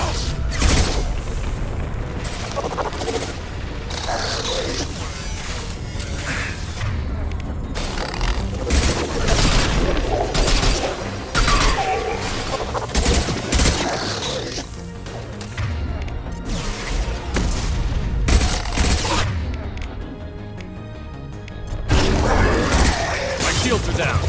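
Weapons fire and explosions in Mass Effect 2 Legendary Edition on PC: repeated heavy booms, crashes and bursts of shooting pound throughout, with voices speaking in between the blasts.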